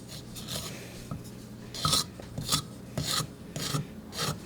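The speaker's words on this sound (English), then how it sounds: "I'm going to use the little wooden spoon to scrape off the big wooden spoon" A small wooden spoon scrapes cake batter off a larger wooden spoon in a series of rough, rasping strokes, close and fairly loud, with no talking.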